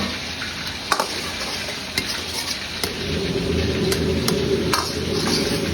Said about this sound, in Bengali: সেই সসে এবার চিকেনগুলোকে দিয়ে দেবো